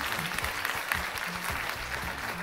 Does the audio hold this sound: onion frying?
no